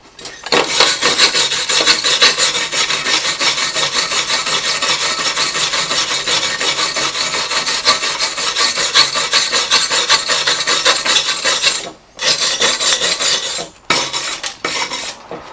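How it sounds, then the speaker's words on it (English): Wire brush scrubbing over a rough gasless flux core weld, a loud, continuous rasping scour with steady back-and-forth strokes, broken by two brief pauses near the end. "So I run the wire brush over it"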